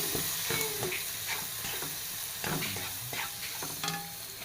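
Curry leaves with chilli, coriander and turmeric powders sauté in hot oil for a papaya curry, giving a steady close sizzle broken by repeated scraping stirs.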